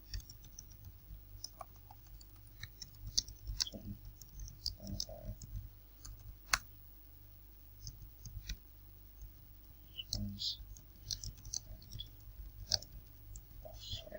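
Sparse, faint computer mouse clicks in Windows Live Movie Maker, isolated taps spaced irregularly over a quiet room background.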